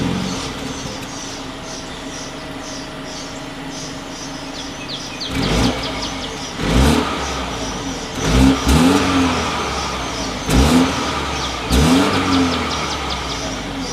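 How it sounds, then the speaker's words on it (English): A 2020 BMW X1 idles, then revs sharply in several loud bursts through its dual exhaust, each dropping back to a low rumble; birds chirp faintly in the background. "As always, here is that exhaust clip."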